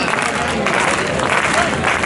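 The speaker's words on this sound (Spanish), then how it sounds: "Echamos unas palmas de Rodrigo." Crowd clapping at an outdoor Carnaval del Toro event in Ciudad Rodrigo, Salamanca, a dense, steady wash of applause filling the whole moment with crowd noise mixed in.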